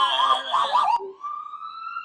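An ambulance siren wails loud and close with a wavering pitch, then shifts into a steady, sustained tone.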